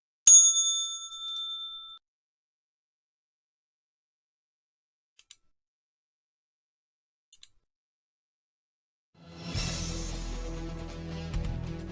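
A single bright bell strike rings out and decays over about two seconds, followed by near silence with a couple of faint ticks, then a burst of loud, dense music or noise near the end.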